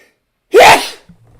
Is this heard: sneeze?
yes